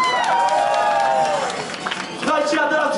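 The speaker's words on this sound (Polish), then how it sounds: "wielkie brawa dla Mateusza Lewkowicza!" An audience at an Ostatki carnival stage in a brewery cheers and claps for a performer, a loud continuous wash of crowd noise with shouted voices that dips briefly midway, then swells again.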